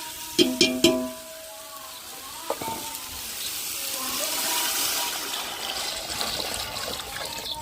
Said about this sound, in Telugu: ఇప్పుడు ఏం చేయాలంటే దాంట్లో ఎసురు వేసుకోవాలి